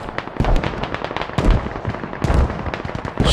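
Mortar rounds fire and impact in rapid succession in a Squad match on the Chora map, a sharp string of close booms and cracks with crackling bursts.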